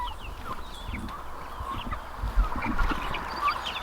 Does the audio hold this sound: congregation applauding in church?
no